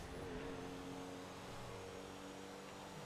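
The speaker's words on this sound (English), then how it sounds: "This Royce sounds good, super good. That engine." Rolls-Royce engine revving steadily in GTA 5, a continuous loud drone with rising and falling engine tones across the whole stretch.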